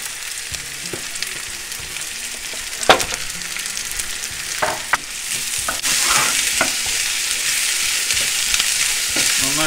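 Sliced onions sizzle in hot oil in a pan, with a few spoon scrapes as they are stirred, and the frying hiss swells steadily louder toward the end.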